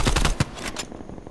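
Rapid automatic gunfire in Call of Duty: Black Ops Cold War, a close, loud burst of shots lasting under a second before fading into quieter game ambience.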